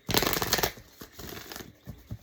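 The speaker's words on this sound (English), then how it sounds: "I'm gonna shuffle them both." Tarot cards are riffled and shuffled in close, crisp bursts, a dense flurry for the first half second followed by several shorter papery snaps and flicks, with no talking over them.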